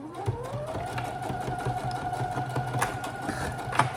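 A domestic sewing machine runs continuously at close range, topstitching around the edge of a fabric shoulder bag with a steady mechanical whir and needle clatter.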